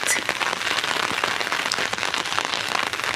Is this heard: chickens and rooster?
no